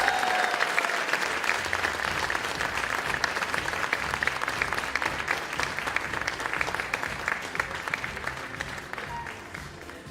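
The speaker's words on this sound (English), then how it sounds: "Give them a big round of applause, everyone." An audience at a school talent showcase applauds, a dense sustained wash of many hands clapping at a distance that carries on steadily throughout.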